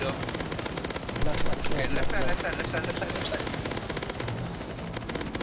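Rapid automatic gunfire from weapons in the video game CS:GO during a zombie escape boss fight, dense sustained bursts throughout, with a player talking over it.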